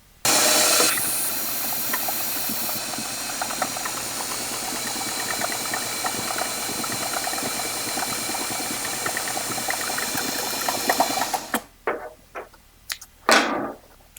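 A sewing machine runs continuously as it hems the top edge of a dropcloth canvas apron, its rapid needle chatter steady for about eleven seconds before stopping, followed by a few short clicks and rustles.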